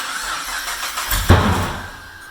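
A car engine cranks and fires up on extra fuel squirted into a cylinder, catching with a sudden burst and then running rough and loud for a moment.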